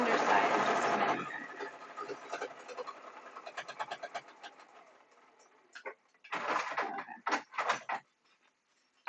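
A sewing machine top-stitching a fabric shopping bag makes a loud mechanical whir at first, then uneven clattering bursts and pauses, ending in a few sharp stitching runs; one brief spoken word is heard.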